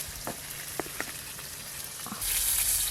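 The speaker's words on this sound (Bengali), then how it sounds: "লাল লাল করে ভাজা হয়ে গেছে, এবার মাছ তুলে দে।" Pangas fish fries in hot oil with a steady close sizzle and a few stirring knocks, then the sizzle swells louder and brighter near the end, with no talking.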